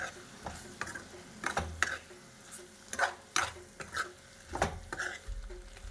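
Chicken curry masala being sautéed and stirred in a pan, with irregular spatula scrapes and knocks over a low, soft sizzle.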